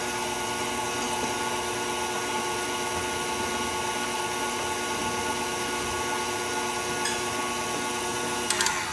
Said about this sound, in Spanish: Y ponemos nuevamente a batir.